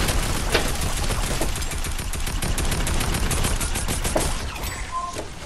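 Rapid bursts of AR-15 gunfire in the Fortnite video game, a loud continuous fusillade of automatic shots filling the whole stretch, easing slightly near the end.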